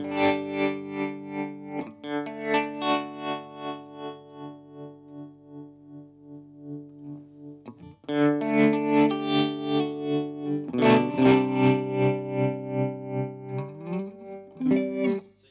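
Guitar run through a Chase Bliss Gravitas pedal with standard and harmonic tremolo both engaged: sustained distorted chords pulse in steady rhythmic swells, with a pause and a brighter, louder restrike midway, no voices.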